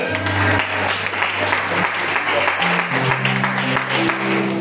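A congregation in a church breaks into steady, loud applause that continues throughout, with a sustained musical tone running underneath.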